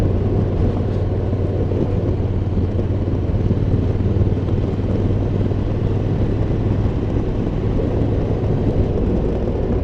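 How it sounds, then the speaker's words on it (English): A Honda NC750 motorcycle engine drones steadily at cruising speed on backroads, a constant low hum blended with rushing wind, with no talking. "this is a brilliant engine in this bike"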